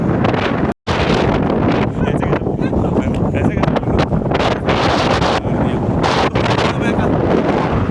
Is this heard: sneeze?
no